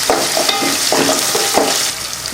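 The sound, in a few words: sun-dried berries and onions frying in hot oil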